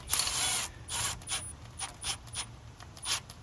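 A small 12-volt cordless impact wrench working on a vehicle's locking hubs, giving repeated short bursts of rattling mechanical hammering with pauses between, close and fairly loud.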